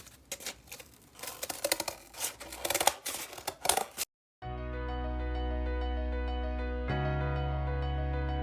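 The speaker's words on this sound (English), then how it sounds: "I'm going to cut these out." Scissors cut out paper shapes in a rapid run of crisp, close snips and paper rustles. The cutting then stops abruptly and sustained music takes over.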